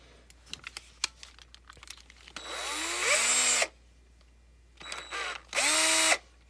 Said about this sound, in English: Normal hand drill.